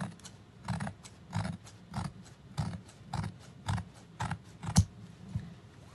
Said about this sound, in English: I take my scissors and cut it.